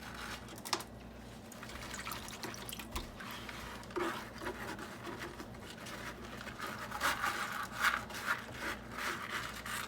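Rocks are rinsed in a gold pan while prospecting for Michigan gold, with faint trickling, dripping water and scattered small scraping clatters of stones over a quiet background.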